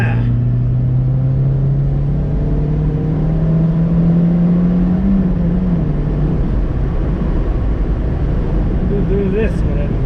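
Ford Street KA with a small four-cylinder engine driving, a steady close engine drone that rises gradually in pitch as it accelerates, with faint wind and road noise.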